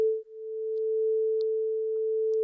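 A pure sine wave test tone from audio software holds perfectly steady for the whole stretch, clean and constant in loudness with no other sounds around it.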